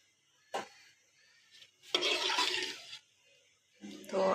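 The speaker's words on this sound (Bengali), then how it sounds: "এই তো শুটকির ঝোলটা দিয়ে দিলাম।" Dried fish broth is poured into a radish curry as it cooks, giving a liquid splashing rush for about a second, then a quieter gap and a second pour near the end.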